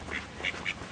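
A duck quacks three times in quick succession, close and clear over a low outdoor background hum, with no talking.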